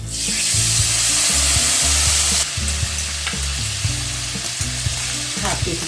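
Green chilli paste, red chilli powder and turmeric frying in a pan with a splash of water for tangra fish curry, a loud hissing sizzle that drops suddenly midway, then continues with clattering stirring and low rumbling tones.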